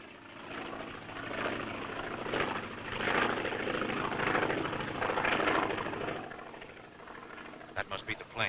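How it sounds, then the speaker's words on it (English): An airplane approaching to land in a 1937 film scene, a steady droning engine that swells and holds for several seconds, then fades as voices begin near the end. "That must be the plane. We'll let him land"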